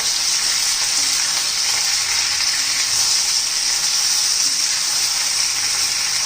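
Okra (bhindi) sautés in hot oil for a dish made without onion or garlic, sending up a loud, continuous close sizzle with a bright, hissing, crackling texture that never lets up.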